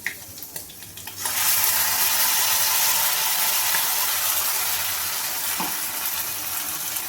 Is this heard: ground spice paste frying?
yes